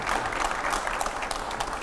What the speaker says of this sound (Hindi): इसमें जोरदार तालियां हो जाए जरा।